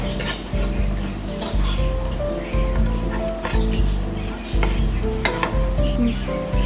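Paneer fried rice seasoned with pepper powder is stirred in a hot pan, with a steady sizzle under repeated scraping and knocking strokes of a spatula, close and alone.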